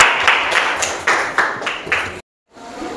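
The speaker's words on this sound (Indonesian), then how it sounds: "Kita kasih aplaus untuk kelompoknya Aling" Applause from a classroom of students for a student group after a project presentation, several bursts of clapping close by, then a short silence and faint room noise.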